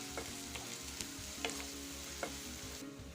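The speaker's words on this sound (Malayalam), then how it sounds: "ഒരു സവാള നന്നായിട്ട് കനം കുറച്ച് അരിഞ്ഞത് ഞാൻ ചേർത്ത് കൊടുത്തിട്ടുണ്ടെങ്കിൽ നമുക്ക് നന്നായിട്ടൊന്ന് വഴറ്റിയെടുക്കണം" Thinly sliced onion with salt sautéing in a pan for a Kerala roasted-coconut egg curry, a low, even sizzle with a few sharp utensil taps and a steady hum beneath, quiet and close.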